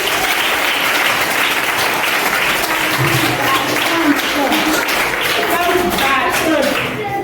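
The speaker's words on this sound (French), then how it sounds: "On applaudit." A crowd at a March 8, 2024 gathering at the Hibiscus complex applauds steadily for several seconds, dense clapping with faint voices mixed in underneath.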